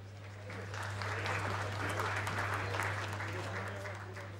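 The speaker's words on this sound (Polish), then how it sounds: "Wielkie brawa." Moderate applause from a conference audience at a European forum greets a professor coming on stage, a steady wash of clapping that swells and fades over a few seconds above a low electrical hum.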